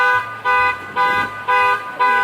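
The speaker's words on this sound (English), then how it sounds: "I can't stand when people use their panic alarm to find their car." A car panic alarm blares in repeated half-second pulses, loud and close, its harmonic tone cutting on and off with a low engine-like rumble beneath, in a parking area during Christmas tree shopping.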